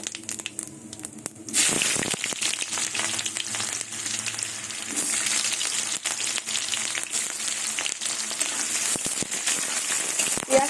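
Onions tipped into hot mustard oil already holding cumin seeds and bay leaf: a quiet crackle turns into a loud, sustained sizzle, with occasional stirring scrapes, close and without voices.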